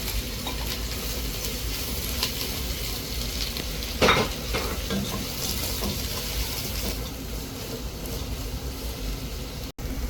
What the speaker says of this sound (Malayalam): അതിലേക്കായി ഞാൻ അരിഞ്ഞു വെച്ചിരിക്കുന്ന സവാള ചേർക്കുകയാണ്.